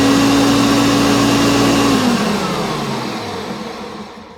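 A Hoover Concept vacuum cleaner's single-speed motor runs with a loud, steady whine and roar, then winds down, its pitch dropping and the sound fading as the motor slows.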